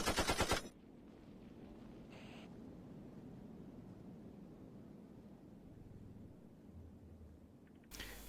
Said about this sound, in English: Did my sound blaster just melt from all the gunfire?